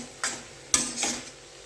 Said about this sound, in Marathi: दोन मिनटं आपण व्यवस्थित असे हा कोबो मिक्स करून घेणार आहोत